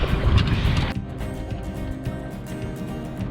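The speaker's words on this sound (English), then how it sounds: "now we have a favorable breeze" Wind rushing past a sailboat running downwind under genoa alone, heavy and gusty at first, then easing to a steadier, softer whoosh with the faint wash of water.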